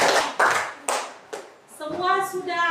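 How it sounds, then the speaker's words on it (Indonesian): Children in a classroom clap for a classmate in a few scattered bursts, followed by a voice speaking over the end. "Tepuk tangan dulu untuk Melan."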